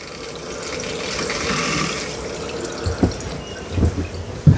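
Water rushes steadily through an RV's plumbing line under increased pressure, a continuous hiss with a few louder gurgling surges and knocks toward the end.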